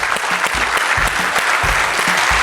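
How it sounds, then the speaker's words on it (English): An audience applauds a panel of home builders with steady, dense clapping at full strength throughout, with no break in the sound. "Round of applause for you guys."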